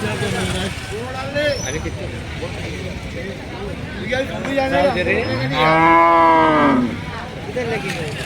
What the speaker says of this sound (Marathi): तर अशा प्रकारे इथे गाई आपल्याला धावणीला दिसत आहे